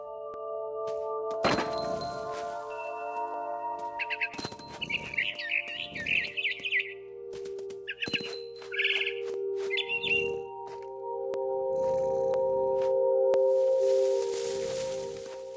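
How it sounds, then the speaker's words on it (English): Barn swallow chirps in the video game What Remains of Edith Finch, a series of quick bright tweets scattered between heavy thunks and knocks over a low sustained game tone, with no talking. "It was a barn swallow going back to her nest."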